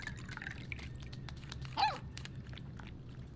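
In the Life is Strange 2 video game, a puppy laps water from a refilled bowl: faint wet drips and slurps, with one brief louder splash near the middle, over a low steady background.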